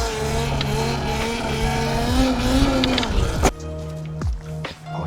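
An ETM RTR Revolver RC car with upgraded motors whines steadily while driving, its pitch sliding up and down, before a sharp knock and a few brief bursts near the end.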